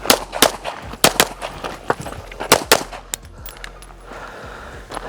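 Pistol shots during a fast shooting drill, a rapid string of loud sharp bangs in quick uneven succession, then echoing tail as the firing stops.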